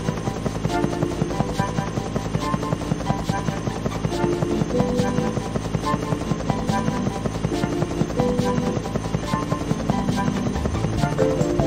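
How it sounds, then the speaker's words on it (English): A biplane flies near the player in the Thomas & Friends: Trouble on the Tracks PC game, its steady rapid engine putter droning continuously and close with a low mechanical thrum. "There's a biplane flying near you."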